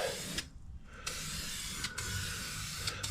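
Dupli-Color spray paint is applied to the door of a 2002 Ford F350 in a series of hissing bursts, one short and then longer sustained passes with brief pauses between, close and steady over a low background rumble.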